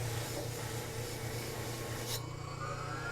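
A Scotch-Brite pad rubs across a machined part from a CNC run on a Tormach PCNC 1100, giving a continuous close abrasive scrubbing over a low machine hum before it stops abruptly near the end.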